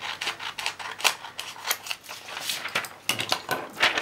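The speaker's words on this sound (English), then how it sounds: "I'm just going to cut this extra bit out here" Scissors snip through paper while a hang tag with a pocket is trimmed, giving a quick series of crisp, close cuts in uneven bursts with short pauses between them.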